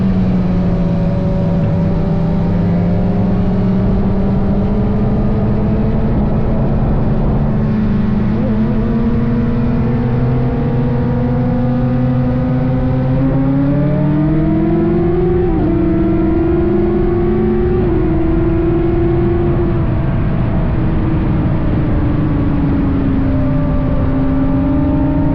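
From inside a Mazda Miata during a race against a Formula Mazda, a loud engine drones steadily close up, its pitch rising and falling through gear changes and acceleration, with no talk.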